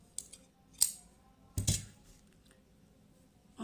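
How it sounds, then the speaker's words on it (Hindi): Scissors snipping crochet yarn while finishing a beaded crochet dupatta edging, heard as three or four quiet, close snips spaced apart with near silence between. "यहाँ से कैंची से हम कट कर लेंगे"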